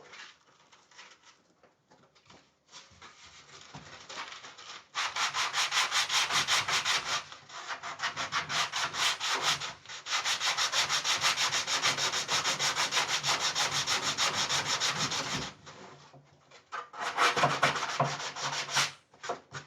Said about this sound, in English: Just add a little bit of pressure with this rubber block.